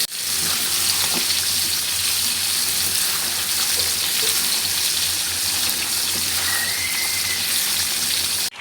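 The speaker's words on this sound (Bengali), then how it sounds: "এদিক দিয়ে যে মাংস কষানো হচ্ছে," Beef curry sizzles loudly in a pan as potatoes are added, a dense continuous hiss of frying close up with no talk.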